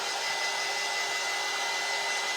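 A hair dryer blows steadily on a craft project, a loud, close, unbroken whooshing roar with no change in pitch or level.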